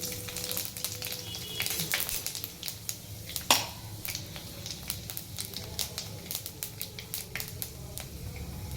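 Bay leaf, dried chili and panch phoron spices crackle and sizzle in hot oil, with scattered pops and snaps over a soft frying hiss, fairly quiet and close.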